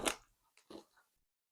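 A few quiet, close crunches of someone chewing granola with milk, a sharp bite followed by two softer munches, then silence.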